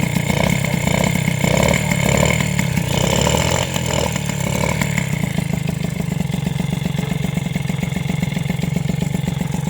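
A Honda SPX/RCX motorcycle engine with a modified engine-mount spacer idles steadily, a loud, continuous low mechanical drone with rapid regular pulsing and a slightly busier first few seconds, no voices present.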